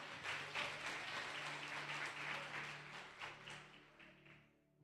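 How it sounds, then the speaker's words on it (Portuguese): A church congregation applauds together, a dense, sustained wash of clapping that gradually fades out toward the end, heard from the room with no talk over it. "aplaude ao nome de Jesus Cristo"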